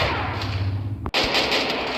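Gunfire and explosions in a battle-royale video game, a dense rattle of shots with a sharp break in the middle followed by more continuous firing.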